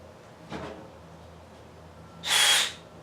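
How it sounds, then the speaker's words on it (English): Drill bit grinding out the PTO switch on a Cub Cadet 2145 lawn tractor: a faint brief bump early, then one loud, bright burst of drilling lasting about a third of a second, fairly close. "Why just take a drill and try to drill the damn thing out?"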